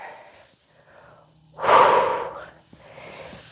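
Breath moves in and out during a yoga session, with a soft inhale followed by one strong, close, airy exhale that fades away, then quieter breathing afterward.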